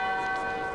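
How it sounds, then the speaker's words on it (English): Church bells ring in old Montreal, a steady sustained tone with bright, lingering overtones over faint city background noise. "Oh, the bells."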